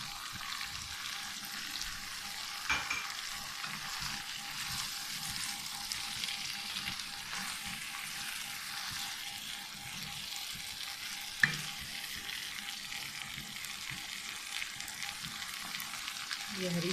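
Chicken jalfrezi with soy sauce sizzles and fries in a pan while being stirred, a continuous close hiss with occasional clinks of a utensil against the pan and a brief clatter.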